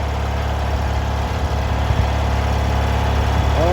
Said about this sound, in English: this is Lois getting on the lawn tractor